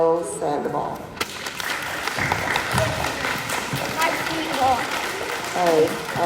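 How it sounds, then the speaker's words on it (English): Applause rises after a brief announcement at a second-grade school awards assembly, with steady clapping from children and adults carrying through as voices and chatter continue over it. "round of applause for everybody"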